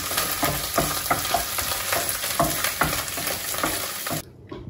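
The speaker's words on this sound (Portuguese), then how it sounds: "E vou dar uma fritada também no cogumelo" Mushrooms fry in a half-filled pan with olive oil, giving a loud, close, crackling sizzle that runs steadily and then stops abruptly near the end.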